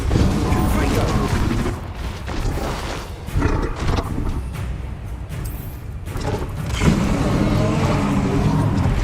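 A Confringo blasting spell explodes in a Harry Potter video game, a loud booming roar that rumbles densely over roughly nine seconds with speech mixed in.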